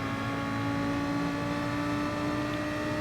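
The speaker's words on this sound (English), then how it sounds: "I'm using the Lamborghini Huracan, just trying to tuck into the slipstream of the GT ahead" Lamborghini Huracan race car engine in GT Sport, a steady, continuous drone with a strong sustained tone held at near-constant pitch for the full three seconds, close and fairly loud with no talking.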